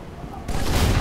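A sniper rifle shot from the video game Halo 3 cracks out as a sudden loud burst that turns into a sustained rumble, preceded by a brief softer stretch.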